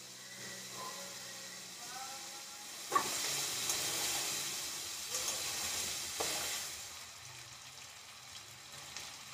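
Green chilies frying in hot oil after cauliflower, a soft sizzling hiss with a few sharp crackles and spatters, heard close but fairly quiet.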